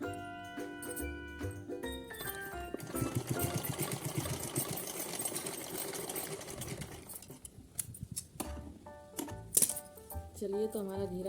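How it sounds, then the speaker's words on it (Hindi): A sewing machine stitches a drawstring seam on a small dress for a Laddu Gopal (Kanha ji) idol, with a steady rapid mechanical whir that runs for several seconds and then eases to scattered clicks. "चलिए सिलाई लगा लेते हैं।"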